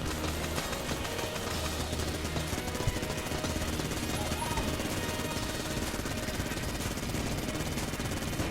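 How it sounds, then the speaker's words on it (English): Rapid continuous firing from a Vulcan cannon in the Enter the Gungeon video game forms a dense, steady rattling barrage amid game noise, no talk heard. "Oh, Vulcan cannon."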